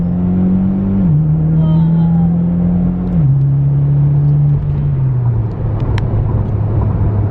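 Engine of a car, compared to a Supra, pulling steadily through several gear shifts, its loud droning note stepping down at each shift and running continuously up close throughout a ride.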